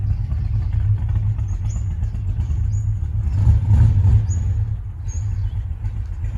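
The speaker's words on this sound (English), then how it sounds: "It's got a pretty nasty sounding V8 in it by the sound of it." An old Datsun or Toyota ute with a loud V8 idles and rumbles at some distance, a low steady engine drone with a slight swell midway, heard alone.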